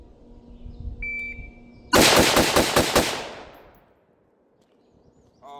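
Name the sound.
rapid rifle shots from a BCM rifle, split-time drill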